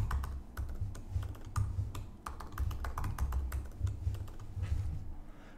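Password keystrokes on a computer keyboard during a blog setup, a steady run of close, crisp clicks over a low constant hum, with no talking.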